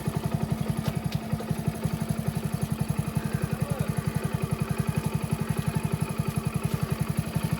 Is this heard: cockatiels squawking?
no